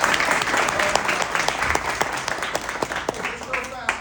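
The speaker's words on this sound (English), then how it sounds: "make sure we at least gave our speakers here a round of applause" An audience applauds the speakers at a talk on caring for people living with dementia, steady clapping filling the room with a dense patter of individual claps throughout.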